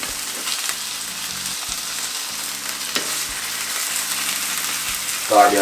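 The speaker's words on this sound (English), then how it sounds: "Alright, make the both sides fry." Salmon pan-fries in a skillet with a steady, moderate sizzle and light crackling, punctuated by a few clinks and scrapes of utensils, then a brief louder burst near the end.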